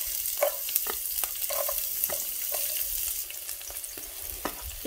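Chopped onion frying lightly in oil in a pan, a soft steady sizzle broken by light spatula scrapes and taps, fairly quiet and close, with no speech.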